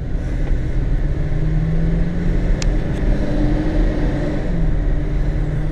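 A Datsun 620 truck fitted with a swapped KA24 engine and in need of tuning, idling with a rough, uneven sputter, a continuous low rumble close by with no voices.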